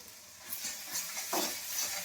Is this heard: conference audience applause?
no